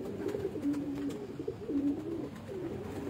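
Pigeons on a Multan rooftop cooing softly, repeated low throaty coos rising and falling over steady faint background noise.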